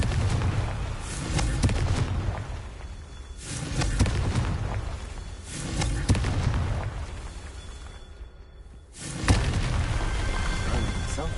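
Confringo blasting spell explosions in Hogwarts Legacy during a Merlin trial, several heavy booming blasts rolling in repeated waves with brief lulls between them, loud and close.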